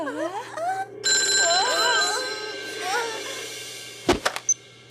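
A telephone rings in the animated series Totally Spies, giving a steady electronic ringing tone. A voice speaks briefly around it, and a couple of sharp thumps come near the end.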